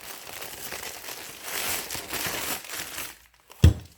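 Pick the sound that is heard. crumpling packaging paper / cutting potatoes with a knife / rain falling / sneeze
crumpling packaging paper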